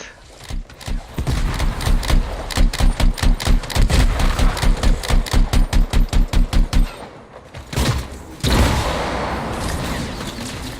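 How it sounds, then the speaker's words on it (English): Gunfire rings out in the Anthem video game. A long, loud run of rapid, evenly spaced shots is followed by a pause, then a few more bursts and a rushing blast, all close and dominant, with no talking. "Someone was shooting me."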